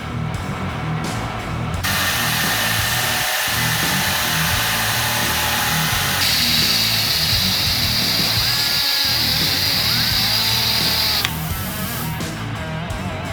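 A milling cutter slots a knife guard in a steady, loud machine run lasting the whole stretch, its pitch shifting partway through as the cut changes, with no talking.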